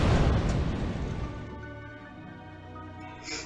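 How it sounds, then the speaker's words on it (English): An outboard motorboat blowing up on Moon Lake in a Nancy Drew game: a close, loud explosive blast that rumbles and crackles, then fades into a lingering tonal ringing with a small pop near the end. "Girl sleuth dies in an outboard motorboat explosion on Moon Lake."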